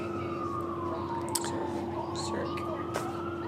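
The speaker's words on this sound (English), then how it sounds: "And you can hear the sirens." Police sirens wail outside a hotel room, a faint gliding tone that rises and falls at a distance beneath quiet talk and room noise.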